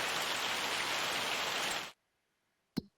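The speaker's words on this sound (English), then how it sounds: "It looks like we're going to be hailing to at least about 11 a.m." Rain and hail in the Farming Simulator 25 video game pour down as a dense, loud hiss, then cut off abruptly into silence, followed by a brief soft click.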